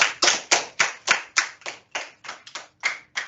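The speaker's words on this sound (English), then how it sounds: "let's give it a round of applause" Clapping follows a class presentation: a small group's hands beat in a fairly regular, fast rhythm of distinct claps, close and moderately loud, with no talking over it.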